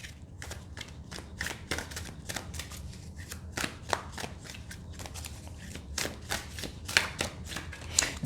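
Tarot cards being shuffled during a reading, a steady run of crisp, close riffling and tapping sounds with no talking.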